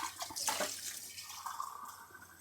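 A cup of water is poured into a cooking pot over a village cooking fire, a short close splash followed by a lighter trickling run that tapers off.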